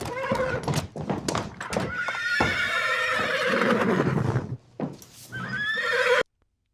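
AI-generated horse whinny in a bar: a loud, drawn-out neigh with clip-clopping hooves and thunks amid bar ambience, ending in a second whinny before abrupt silence.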